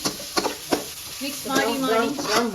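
Batter mixed with coconut oil in a sizzling pan, with a few soft scraping taps from the spoon early on, then a person talks over the steady frying hiss.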